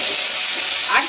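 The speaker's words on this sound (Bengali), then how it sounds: "এবার আমি এই তেলে দিয়ে দেবো আলু" Potatoes going into hot oil for a hilsa fish-head curry, a steady close sizzle with a brief louder crackling burst near the end.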